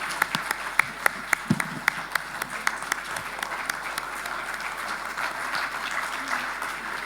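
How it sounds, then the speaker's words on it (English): A large audience gives a round of applause after a fireside chat on the chemicals sector, steady crowd clapping with a few sharp individual claps standing out, sustained throughout without speech. "this unique exclusive chat deserves a standing ovation with a round of applause"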